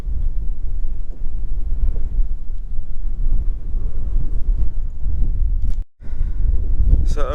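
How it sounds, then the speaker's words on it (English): Strong wind roars across the microphone at the top of a water tower in Tembe Elephant Park, a steady loud rumble that briefly drops out near the end. "It's very windy up here, so apologies in advance."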